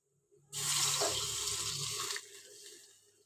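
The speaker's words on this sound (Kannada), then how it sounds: "ಇವಾಗ ಸ್ವಲ್ಪ ನೋಡಿ ಅರ್ಧ ಗ್ಲಾಸ್ ನೀರು ಹಾಕ್ತೀನಿ" Half a glass of water poured into hot ghee for kesari bath, a sudden loud hissing splash that runs steadily for under two seconds, then drops to a softer bubbling simmer.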